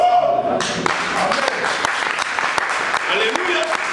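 A church congregation at a sermon by a pastor claps loudly and continuously, with cheering voices and shouts mixed into the dense applause.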